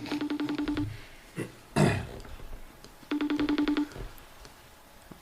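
Telephone ringback tone, two bursts of rapid electronic ringing trilling while waiting for someone to answer, with a loud burp-like voice noise between them and a brief sound at the end.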